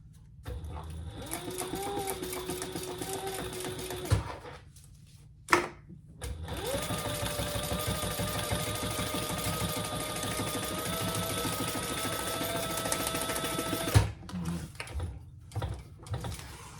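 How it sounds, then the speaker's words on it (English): Sewing machine stitching card slots on a crossbody bag, backstitching over each: a close, steady mechanical whir in long runs, broken by short pauses and a few knocks as the stitching stops and restarts. "you saw me backstitch over each card slot just to give them a little more durability"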